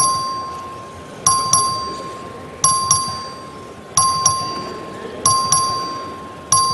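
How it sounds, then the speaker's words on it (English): Vote bell in a state House legislative chamber, ringing in repeated double strikes at a steady rhythm, each decaying into a sustained tone with a clear pitch, loud and near, with no talk. "It's a record vote. Clerk, ring the bell."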